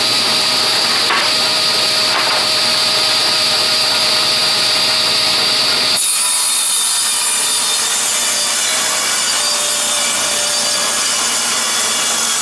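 A saw ripping a 1.5-inch strip from a walnut board, a loud steady whining cut that changes abruptly in tone partway through, then continues as a lighter, thinner hum.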